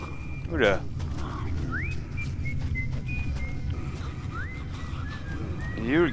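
Rising whistles from a guard in the video game Metro Last Light sound twice over a steady low rumble, with a few soft clip-clop and clatter noises.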